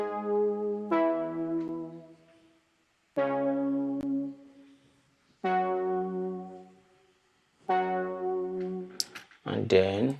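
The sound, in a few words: synth sound in a song remake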